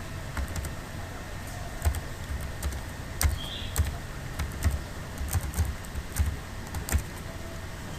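Keys tapped on a computer keyboard while a password is entered, steady irregular clicking at close range over a faint background hum, no talking.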